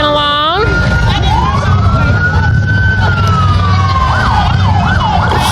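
Police car sirens at a Christmas parade wail and yelp loudly close by, sweeping up and down over a steady vehicle rumble.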